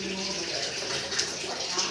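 Water from a tap running steadily into a container for cooking, a continuous close hiss and splash in an office setting in San Andres.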